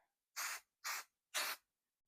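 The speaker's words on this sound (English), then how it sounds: "I'm going to spray base this so it doesn't move on me when I'm sewing." Three short bursts of spray from a can of spray basting adhesive, evenly spaced hissing puffs, close and clear with silence between.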